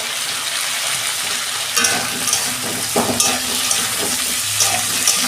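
Vegetables for a cabbage ghonto fry in plenty of oil, a close continuous sizzle broken by scraping stirs and small clatters from the pan, no voices over it.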